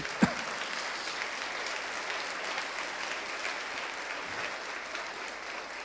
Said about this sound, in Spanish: Den un aplauso a Jesús por ello.